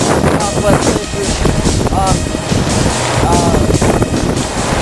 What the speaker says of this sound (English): The wind's kind of swirling around this area